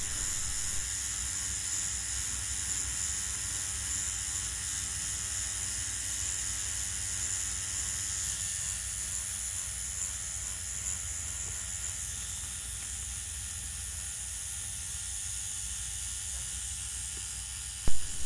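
A tattoo machine set to 7 volts shades skin on a knee, giving a steady, even electric buzz that runs unbroken and fairly close, with no talking.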